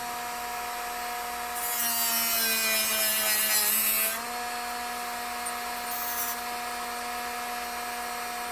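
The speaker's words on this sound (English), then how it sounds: "We're going to actually cut in that extra 1/4 inch." A power tool cuts an extra quarter inch into wood, its steady motor whine rising into a brighter, harsher burst of cutting for about two seconds before settling back, with a shorter second bite near the end.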